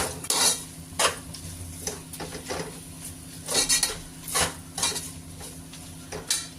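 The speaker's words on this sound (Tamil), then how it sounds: "புதினா, கொத்தமல்லி இதை போட்டு நல்லா வதக்கிடணும்." Mint and coriander leaves being sautéed in a pan for mutton biryani, with repeated loud scraping and clinking of a metal spoon against the pot over a faint sizzle.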